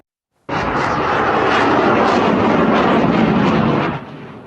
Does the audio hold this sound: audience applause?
no